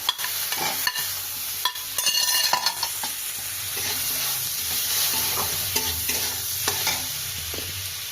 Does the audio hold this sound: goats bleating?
no